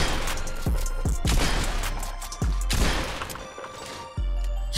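A pump shotgun in Fortnite fires several heavy booming blasts at irregular intervals, loud and close, each followed by a fading rumble.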